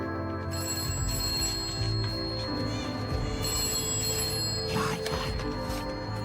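A telephone rings steadily throughout, a bright repeating electronic tone, with some background noise mixed in.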